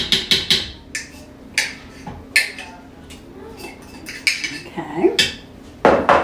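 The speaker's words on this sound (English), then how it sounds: "I'm going to stir this" Spoon clanking and scraping against the metal insert of an Instant Pot while stirring sour cream and flour, a series of sharp clinks and scrapes in bursts, with a brief word of talk.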